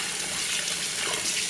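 Spinach leaves are put into a basin of water, with a steady loud rush and splash of water running continuously throughout, close by and without talk.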